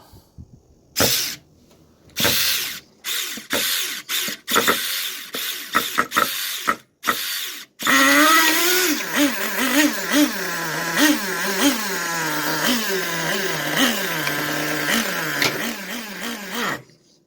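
A Traxxas T-Maxx 2.5 nitro RC truck being restored first gives a string of short ratcheting pull-start bursts with pauses, then fires up and runs continuously, its small high-pitched engine buzzing and revving up and down nearby.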